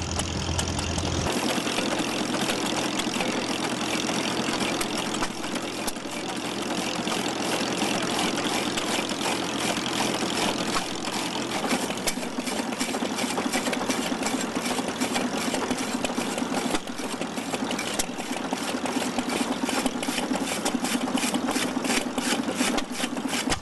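An old hit-and-miss stationary farm engine runs steadily nearby, a continuous mechanical chugging with a rapid regular beat and faint rattles, loud and alone for the whole stretch.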